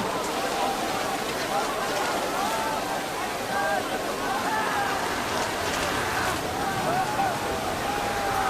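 Steady rain falling in a dramatised historical scene, a constant dense hiss throughout, under a voice speaking over it.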